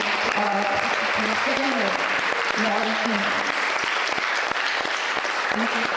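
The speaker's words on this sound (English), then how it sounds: "I would like for us to give a big applause for April and Liz" Sustained audience applause at an Indivisible general meeting, loud dense clapping filling the room for several seconds, with a voice speaking briefly over it.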